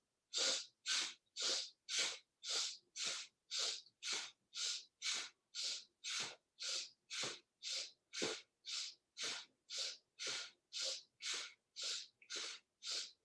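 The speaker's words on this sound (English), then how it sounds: "it's a short, sharp inhale and to exhale through the nose" Rapid, forceful breath-of-fire pranayama breathing during a gentle yoga session, about two sharp nasal puffs per second in a steady, even rhythm, close and clear with no talking.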